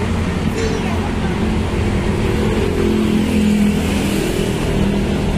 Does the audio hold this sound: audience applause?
no